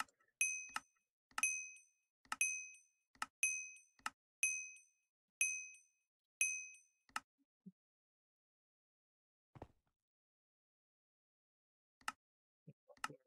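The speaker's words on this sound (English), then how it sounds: "I might just muffle the bell sound in this area" A bell in a video game dings about seven times in a steady rhythm, each ring bright and ringing out before the next. After the run ends, a few scattered fainter dings and small clicks follow among stretches of quiet.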